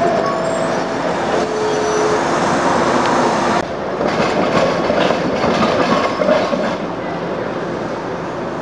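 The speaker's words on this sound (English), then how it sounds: "to ride the Newark City subway the last day of the PCCs." A PCC trolley car riding the Newark City Subway gives a loud, continuous rail rumble with rhythmic wheel clicks and a shift in tone partway through as it rolls along the track, with no talking.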